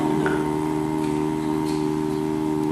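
A human voice imitates a foghorn with a low, steady, buzzing hum held for a few seconds, close and unbroken, vibrating from the belly.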